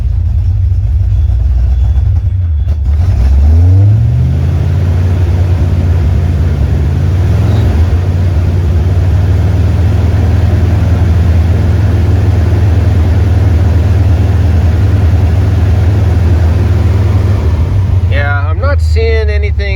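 A car engine idles steadily, then rises in a rev as the pitch climbs and settles into a loud, sustained drone.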